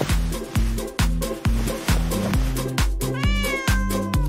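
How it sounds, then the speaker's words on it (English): A cat meows over and over in a steady, evenly spaced rhythm, loud and close, with no talk. "Let's distract the cat."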